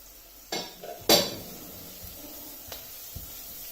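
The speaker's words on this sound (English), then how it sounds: "I'm going to add them into the pan." Teaspoons of garlic powder, onion powder, thyme and oregano land in a frying pan as clinks and taps of a spoon on metal, with a brief sizzle and hiss, sparse and close.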